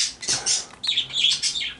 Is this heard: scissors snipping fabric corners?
no